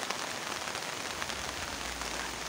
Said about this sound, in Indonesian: hujan nggak masalah